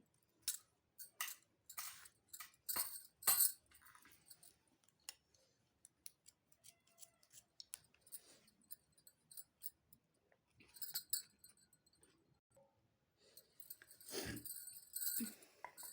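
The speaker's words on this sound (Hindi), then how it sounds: "पीछे का पल्लू भी इसी तरह हम कैंची की मदद से काटते चले जाएंगे।" Scissors snip through blouse fabric in quick, irregular bursts of crisp clicks and blade scrapes, pausing between runs of cuts, close to the ear with no talking.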